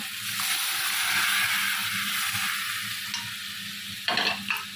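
Fish curry with kohlrabi, potato and onion being stirred in a pan, a steady sizzling hiss with a scraping spoon and a couple of sharper clinks near the end, no talking.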